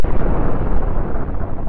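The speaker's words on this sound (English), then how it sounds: "See this glorious explosion." A huge, loud explosion in the space combat game Cosmoteer, booming and rumbling continuously with dense low-end roar and a few sharper bursts on top.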